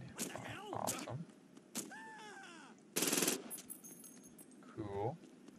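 An AR-50 rifle that fires grenades in the video game Saints Row 2 lets off a single loud, sharp blast midway, while someone talks before and after it.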